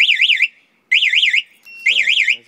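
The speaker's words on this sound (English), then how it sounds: "if the alarm starts going off, say if I put the siren on" An aftermarket SPY 5000M pager alarm siren on a 2009 Kawasaki Ninja 250R blares in three loud, warbling bursts with short gaps between them, close and piercing, with no talk over it.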